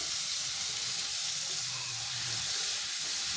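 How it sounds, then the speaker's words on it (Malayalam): Onions frying with ginger-garlic paste in a pan give a steady close sizzle and hiss, continuous and moderately loud with no voices. "ഉള്ളി ഒന്നതേ വഴണ്ടി വരുമ്പോൾ നമുക്ക് ഇതിലോട്ട് ഇഞ്ചി വെളുത്തുള്ളി പേസ്റ്റ്"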